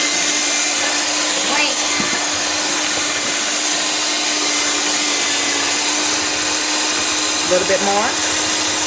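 An electric mixer drones steadily while blending holiday cookie dough, a constant loud whir running the whole time, with people talking briefly over it.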